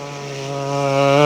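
A performer imitates an approaching lorry with his voice, making a droning, rumbling engine tone that grows steadily louder over about a second, with no other sound.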